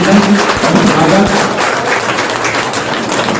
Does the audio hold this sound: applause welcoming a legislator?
yes